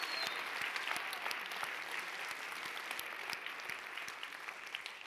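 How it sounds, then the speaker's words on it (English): An audience at a talk on happiness and kindness claps in sustained, dense applause, a steady patter of many hands heard up close with no voices on top. "can we just have another round of applause and love for the amazing volunteers of Wuhasu?"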